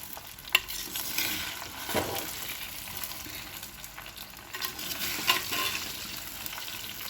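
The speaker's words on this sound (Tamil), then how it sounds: "எண்ணெய் வந்து சுத்தமாக எல்லா நெல்லிக்காயிலையும் நல்லா படுற மாதிரி கிளறி விடணும்." Gooseberries (nellikkai) for pickle are stirred in hot oil, a continuous sizzle with scraping ladle strokes and occasional sharp taps against the pan, close and without speech.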